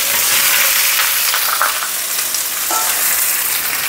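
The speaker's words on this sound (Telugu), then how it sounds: "కొద్దిగా కరివేపాకు ఎప్పుడైతే మనకు వేగిపోతుందో మ్యాంగో పీసెస్ అన్నీ వేసేస్తున్నాం ఇందులో" Raw mango pieces dropped into curry leaves frying in oil in a pan for a sweet Odisha-style mango chutney, producing a loud, close, steady sizzle with brief bursts of stirring and spattering and no talking.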